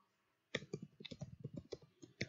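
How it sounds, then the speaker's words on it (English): Sharp mouse clicks on a button in Gmail while setting up encrypted email, several quick close clicks in an irregular rhythm, loud and dry with no talking. "Just click on the log button."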